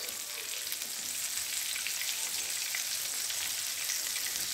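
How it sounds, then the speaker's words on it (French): Marinated white fish fries in a non-stick pan with a steady, close hiss and crackle of oil that continues evenly throughout. "on va déjà laisser cuire d'un côté et ensuite on les retournera lorsque ce sera doré"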